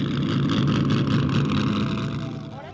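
An original 1966 Ferrari 250 GTO at a classic car concours gives a loud, close, steady engine rumble that fades slightly at the end.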